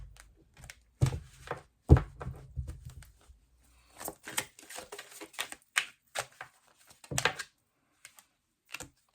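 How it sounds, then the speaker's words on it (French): Oracle cards being shuffled during a tarot-style reading: a run of quick, papery riffles and flicks, with a few heavier soft thumps early on, close and fairly quiet, with gaps between bursts. "On va prendre les cartes coup de cœur pour voir un petit peu ce qu'on nous donne comme message."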